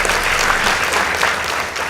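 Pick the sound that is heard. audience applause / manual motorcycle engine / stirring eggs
audience applause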